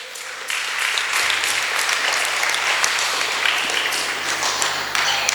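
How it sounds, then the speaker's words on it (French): A church congregation bursts into sustained applause and acclamation for God at a Sunday service, a steady, full crowd of hands clapping with occasional sharper claps, starting after a brief lull and continuing unbroken. "Une acclamation pour notre Dieu."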